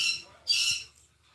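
Zelda, a pet bird, lets out a short, shrill squawk indoors, a brief loud call that comes after a fainter one.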